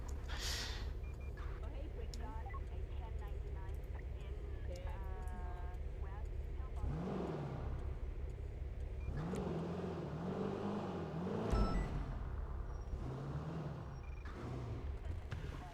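A car engine in a video game revs and whirs through a series of rising and falling pitch sweeps, fairly loud, with occasional breathy vocal sounds over it.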